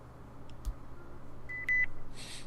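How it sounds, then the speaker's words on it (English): A couple of short electronic beeps sound faintly over a quiet room hum, with a brief higher chirp near the end. "you hear a beep coming from the right-hand side of the room."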